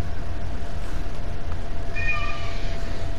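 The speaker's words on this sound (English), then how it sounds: "I hear your cat, jeez." A cat meows clearly and fairly close, a drawn-out call over a steady low background hum, heard during a Dead by Daylight game session.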